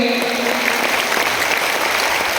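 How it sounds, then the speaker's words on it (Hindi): Loud, dense crowd applause fills a huge religious storytelling gathering at the Maha Kumbh in Prayagraj, a steady unbroken roar of many hands with no pauses. "एक बार जोरदार ताली बजाकर स्वागत करें"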